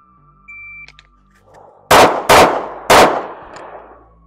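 A SIG P320 pistol fires three sharp, loud shots at a target in a Mozambique drill, two in quick succession and a third after a short pause, each followed by a brief echo.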